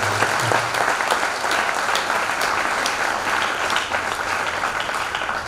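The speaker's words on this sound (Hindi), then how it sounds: "तो एक जोरदार ताली रोनित के लिए" A large gathering of religious leaders at a Christian community assembly breaks into loud, continuous applause, a steady dense clapping that stays strong throughout with no speech on top.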